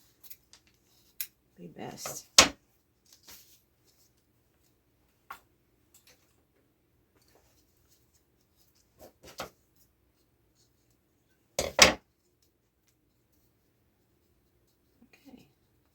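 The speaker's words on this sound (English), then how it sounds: "these are my fabric scissors" Scissors snip through fabric in a few short, crisp cuts spread over a quiet stretch, with a brief soft murmur of speech.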